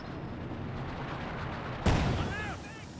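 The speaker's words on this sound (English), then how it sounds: "Bit of white phosphorus there." White phosphorus artillery barrage in the strategy video game Company of Heroes 2, a low battle rumble broken by one sharp, loud blast that decays, followed by faint whistling shell sounds.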